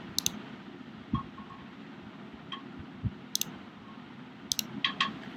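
Sparse, sharp computer mouse clicks, a handful spread unevenly across a quiet room with low background hum.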